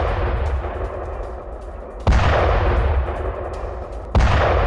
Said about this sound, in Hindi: हिजबुल्लाह के ठिकाने पर बमबारी की, हमले में हिजबुल्लाह के कई लड़ाके मारे गए।